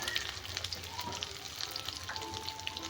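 Catfish curry with salt and chili powder frying in a pan over a village mud oven, with a soft continuous sizzle and gentle stirring, faint and close.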